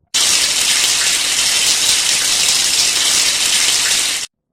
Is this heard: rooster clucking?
no